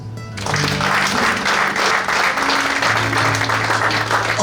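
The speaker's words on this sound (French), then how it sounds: "Nous applaudissons." An audience at a book vernissage breaks into sustained applause, with dense clapping starting abruptly and holding loud and steady. A low hum runs underneath.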